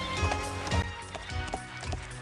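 Cartoon horse hooves clip-clop in a quick, uneven rhythm of sharp knocks, close and fairly loud over a soft musical background.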